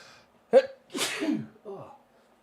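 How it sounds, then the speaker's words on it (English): A single close, loud sneeze with a sharp catch of breath and then an explosive burst, trailing off into a short voiced sound in a quiet indoor room during a gaming podcast chat. "Sneezing's bad for your brain."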